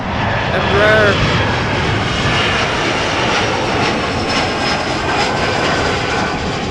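An Embraer 175 jet airliner arriving at Amsterdam Schiphol from Berlin, a loud, steady broadband engine roar close by throughout, with a person talking over it.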